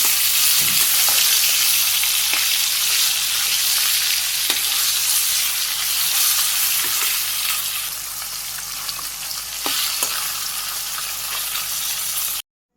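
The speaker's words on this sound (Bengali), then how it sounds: "ওদিকে আমার মাছ ভাজা এক হয়ে গেছে মাছটা একটু উঠিয়ে দিই" Fish fries in hot oil with a loud, steady, close sizzle that fills the whole stretch, marked by occasional sharp clicks and clatters from a utensil in the pan.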